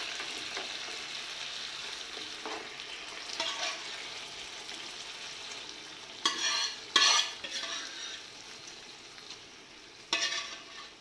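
Pressure-cooked beef and its gravy stirred and fried in a pan for beef ularthu: a soft continuous sizzle with a spoon scraping and clattering in scattered bursts, close and alone.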